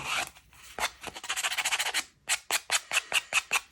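Rapid rasping strokes of a sanding tool roughing the edges of paper tags, a run of quick rubs followed by slower, evenly spaced scrapes, close and alone.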